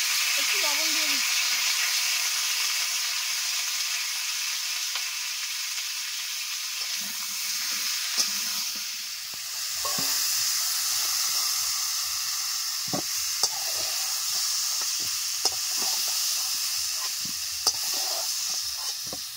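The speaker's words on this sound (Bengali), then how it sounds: "তো এই কুমড়োগুলো হালকা করে ভেজে নেব।" Pumpkin pieces frying in leftover fish-frying oil in a village kitchen, a constant close sizzle broken by occasional stirring clinks and scrapes, with soft intermittent talk.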